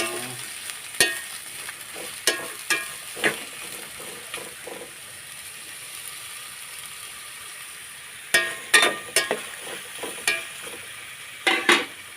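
Garlic and sponge gourd fry in a pan with a constant soft sizzle, broken by bursts of sharp scraping and clattering as a utensil stirs, in two clusters with a quieter gap between them.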